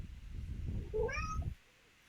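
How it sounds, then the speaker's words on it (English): A cat gives a single rising meow, fairly close but soft, over low background rumble that cuts out just after it. "whose cat is that?"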